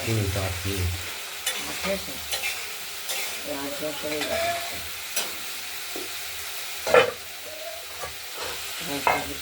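Masala spice paste sautés in a pan for a cauliflower and potato curry, soft sizzling under irregular scrapes and stirs of a spoon, with a few sharper clatters against the pan.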